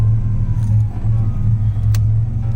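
A car engine idles rich on a cold start on a freezing day, giving a steady, loud low rumble close by with a slight dip in the middle.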